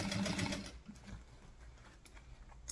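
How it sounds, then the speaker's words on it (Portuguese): Sewing machine stitching a piece of a baguette bag, a short busy mechanical whir at the start that stops quickly, leaving faint room noise and light handling sounds. "encaixa na máquina e vamos costurar"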